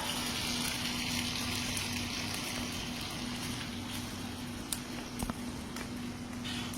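Water poured into a frying pan of hot oil with mustard seeds and chilli for dhokla makes a steady, close rushing gush that runs throughout over a low hum, with a couple of brief clicks near the end.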